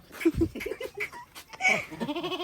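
A goat bleats several times close by, wavering cries with a trembling, stuttering end.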